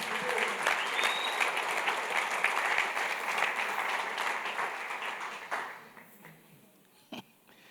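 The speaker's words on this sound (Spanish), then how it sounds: "démosle un aplauso al Señor" Church congregation applause during a Sunday service: a loud, sustained wash of clapping from many hands that thins out and fades away over the last couple of seconds, leaving a few stray claps.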